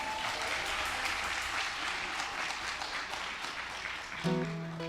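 A church congregation claps together in a dense, sustained burst of applause at moderate distance, with a brief musical tone entering near the end.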